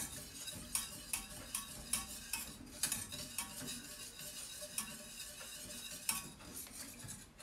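Cream and speculoos paste stirred in a pan, a steady scraping swirl with repeated light clinks of a utensil against the metal at an even pace, close and quiet with no talk.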